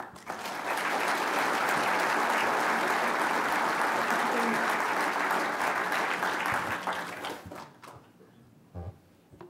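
An audience at a talk on Mark Twain applauds to welcome speaker Alan Crawford. The clapping swells quickly to a full, sustained round, then thins out and fades to a few scattered claps.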